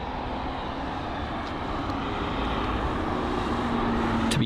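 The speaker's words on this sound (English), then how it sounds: "I think we're going to capture the last couple of aircraft" An aircraft at London Heathrow airport produces a steady, broad engine roar with a faint low whine running underneath, constant and moderately loud at a distance, with no speech.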